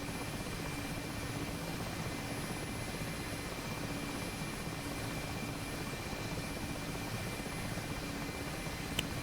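An Mi-8 helicopter flying in the combat game DCS gives a steady, dense rotor and engine drone, even and unbroken, heard from inside with no talk.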